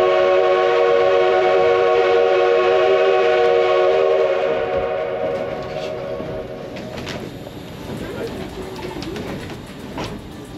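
Tourist train ride in the Black Hills near Custer State Park, South Dakota, with a loud sustained multi-tone train whistle that fades after a few seconds into rumbling rail noise and birdsong.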